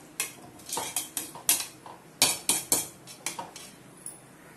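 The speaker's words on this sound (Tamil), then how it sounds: "நல்லா கிளறி விட்டுக்கலாம்" A spoon scrapes and clinks against a metal pot of curry in a series of sharp, uneven strokes, close and fairly loud, with no talking.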